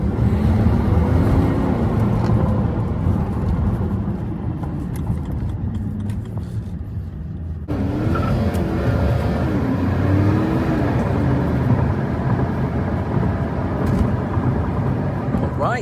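Lifted Ford F250 Platinum pickup on 38-inch tires with a 6.5-inch lift, driving toward a parking lot, its steady low engine and road rumble running throughout with a brief drop midway, a voice talking over it.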